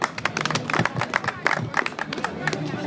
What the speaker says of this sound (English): Please give Mr. Ibrahim a half clap.